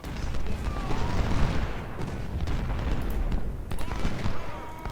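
Cannon and artillery fire in the Civil War strategy game Ultimate General: Civil War, set at the Siege of Jackson, with 10- and 20-pounder guns. A dense, continuous battle roar of distant booms and crackling volleys fills the whole stretch.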